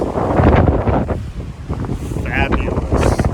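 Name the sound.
wind at a beach park in Hawaii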